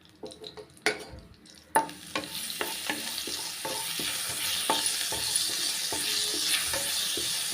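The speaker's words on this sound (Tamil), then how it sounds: "இப்போ இந்த நெய்யோடு வறுத்து போடும்போது நல்லா வாசமாகவும் இருக்கும்" White sesame seeds roast in a little ghee in a kadai, giving a steady soft sizzle punctuated by repeated scraping taps of a spoon stirring against the pan, close and without talk.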